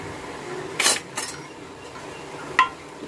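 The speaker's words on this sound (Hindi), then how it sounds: "मिक्स करके दिखा देती हूँ।" A spoon scrapes and clinks against a pot while dal chicken is stirred and mixed, with a few distinct metallic knocks over a quiet background.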